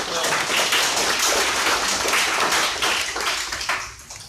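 An audience at a university VR workshop claps, a dense burst of applause that swells, holds for a few seconds and fades near the end.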